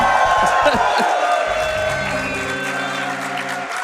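An audience at the Awesome Games Done Quick 2025 speedrun event, during a Kaizo Mario World 3 run, gives a sustained wash of applause and cheering that carries on steadily while other sounds fade out beneath it.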